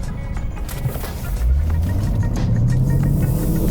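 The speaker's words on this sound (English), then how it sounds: "if you switch it over to manual mode, let me downshift here" A 2023 Lexus IS500 F Sport engine downshifts in manual mode, its low rumble climbing as the revs rise and hold, steady and close inside the cabin.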